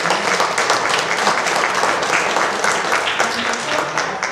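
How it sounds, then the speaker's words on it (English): Loud, sustained applause from a church congregation during a Sunday service, dense clapping filling the room evenly from start to finish. "So she deserves a huge"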